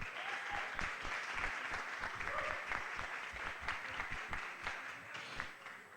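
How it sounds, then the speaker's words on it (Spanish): An audience at a book presentation at a book fair claps steadily, a dense, even wash of many hands that holds for several seconds and tapers slightly at the end. "a quien pido un fuerte aplauso"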